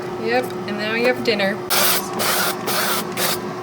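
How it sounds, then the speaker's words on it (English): Cooking oil is sprayed onto broccoli and other food in a Cosori Lite 4-quart air fryer, several loud hissing bursts in quick succession right after people finish talking. "Spray with oil."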